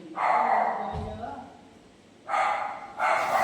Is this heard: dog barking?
yes